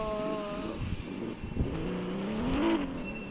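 A royal car named Prime revs and accelerates in a realistic car driving video game, its engine tone rising and climbing in pitch over a few seconds at moderate volume, with no talking.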